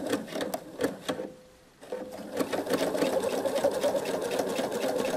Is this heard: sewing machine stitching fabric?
yes